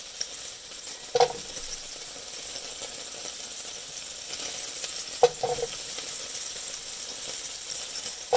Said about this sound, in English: So in the frying pan, We're going to drop our potatoes a few at a time